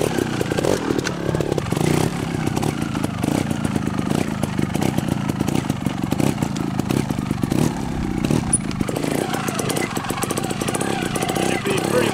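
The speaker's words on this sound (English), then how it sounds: "It's just a light flip of the throttle as you pop the clutch and jump, and that's just enough to lift the rear tire" Trials motorcycle hopping on its rear tire, with clutch pops and light throttle blips on a cold 20-degree day, sounds as a steady, loud engine rattle with sharp choppy bursts throughout.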